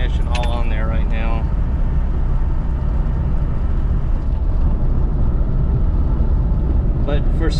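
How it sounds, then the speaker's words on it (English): Inside a Mini Balmoral Edition car on the road, a steady, loud low rumble of engine and road noise carries a constant vibration throughout, with a voice speaking briefly near the start and again at the end. "You might hear some vibration."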